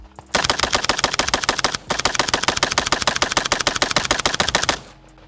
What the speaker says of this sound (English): Let's get back over there and keep shooting.